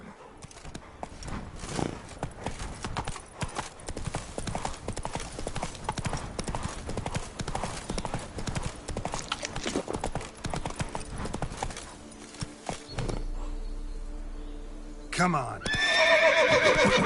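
In The Witcher 3, the horse Roach gallops with rapid rhythmic hoofbeats under a man's brief spoken urging, then the hooves slow and a loud whinny closes the run.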